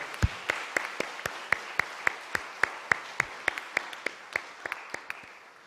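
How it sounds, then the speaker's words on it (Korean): A church congregation at a Friday late-night prayer service claps in a steady, even rhythm, about two claps per second, fairly soft and slowing slightly toward the end. "우리 감사와 축복과 격려의 박수 부탁드리겠습니다."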